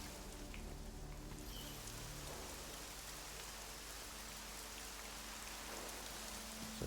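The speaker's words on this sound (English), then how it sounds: "I don't think I've seen rain in this game." Steady rain falls on a night-time city street in the video game Deus Ex: Mankind Divided, a dense, even hiss close by and unbroken throughout, with a faint low rumble underneath.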